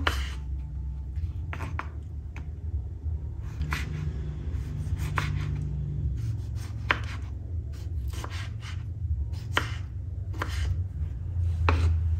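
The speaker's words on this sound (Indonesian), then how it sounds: "Tomatnya kita potong kecil-kecil." Tomatoes are chopped into small pieces on a cutting board, the knife striking in irregular bursts of sharp taps with short pauses between, close and clear over a low background hum.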